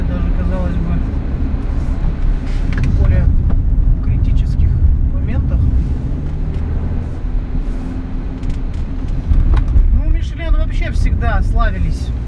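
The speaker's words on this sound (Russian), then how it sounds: "машина говорит: давай, перейду на пониженную, чтобы получить больше драйва" A car downshifts during a wet handling tyre test, its engine a loud steady drone with rising revs and road noise throughout, while someone talks over it.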